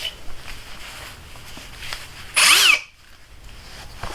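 Metabo HPT 36V cordless hammer drill in drill mode on high speed, a single loud burst of whirring motor lasting about half a second that spins up and cuts off, with faint handling noises before and after.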